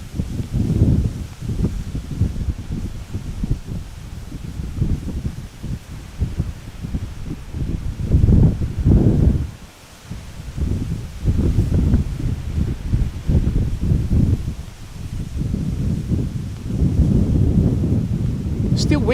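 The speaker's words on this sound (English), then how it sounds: "Still windy here, as you guys can hear and see." Strong gusty wind at an airport buffets the microphone in heavy, uneven roaring surges with brief lulls, loud and close throughout.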